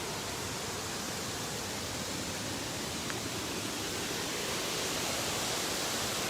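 A waterfall gives off a constant, broadband rush of falling water at a steady moderate level, unbroken and with no voices over it.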